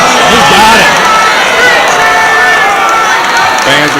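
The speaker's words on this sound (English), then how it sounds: "Fans are cheering for the pin chain too." Fans at a college wrestling dual between Ohio State and Princeton cheer and shout loudly throughout, a dense, steady roar of crowd noise with occasional individual yells.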